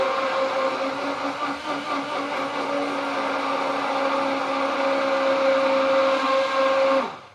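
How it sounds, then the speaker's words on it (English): A hand blender whirs steadily at high speed for several seconds, a constant motor hum that winds down abruptly at the end. "I have a hand blender plugged in"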